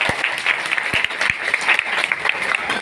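Audience at a Hindi talk on health and prosperity clapping, an uneven patter of claps with a few sharp, close individual claps standing out over the crowd.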